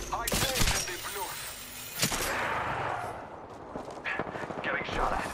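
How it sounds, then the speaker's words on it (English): Apex Legends gunfire cracks in sharp repeated bursts and single shots, close and loud, mixed with impacts and game effects, while a voice speaks over part of it. "Getting shot at."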